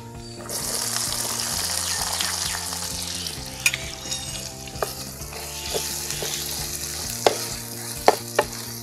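Small onions (shallots) dropped into hot oil with fennel seeds for prawn and cashew thokku, a loud steady sizzle close up, with occasional clinks and scrapes of stirring in the pan.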